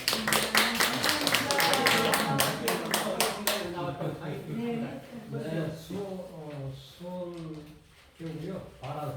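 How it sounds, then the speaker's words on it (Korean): A church gathering's audience claps briefly in a quick burst at the start, then the applause fades and voices take over and continue talking. "박수."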